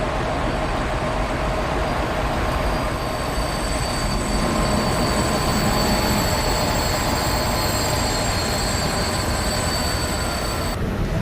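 A train shunts in Train Simulator 2020 on the Köblitzer Bergland route near Koblitz-Wildau, with a continuous loud rumble of wheels on track, a high sustained squeal of wheels and steady mechanical drone running without pause.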